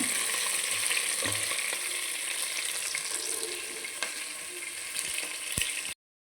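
Fish pieces fry in hot oil for a fish biryani, giving a continuous close, bright sizzle with occasional small pops and clicks. The sound runs steadily and then stops abruptly.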